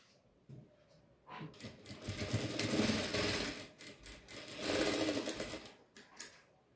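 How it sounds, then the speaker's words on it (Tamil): A sewing machine stitches a straight side seam on a boxer brief, starting with a few quiet clicks and then breaking into two fast, rattling bursts of stitching with a short pause between them. "சைடில் 1/4 இன்ச்சுக்கு ஸ்ட்ரைட்டாக தொடைப்பகுதியிலேருந்து இடுப்பு வரைக்கும் ஸ்ட்ரைட்டாக 2 ஸ்டிச் பண்ணிக்கலாம்"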